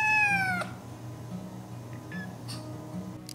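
A domestic cat gives a single clear meow with a falling pitch right at the start, followed by a quiet low background hum with no voices.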